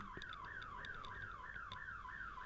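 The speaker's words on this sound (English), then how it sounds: "my alarm just went off" An electronic alarm repeats a rising, warbling tone in a quick, regular cycle, fairly faint against a quiet room.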